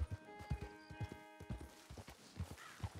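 Horse hooves clip-clop in a steady walking rhythm in Red Dead Redemption 2, the scrawny stand-in horse; the hoofbeats are soft and fairly distant, with faint background tones.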